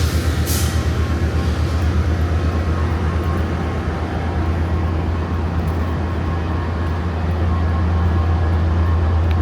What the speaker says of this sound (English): Over there in the distance you can see the light rail at its station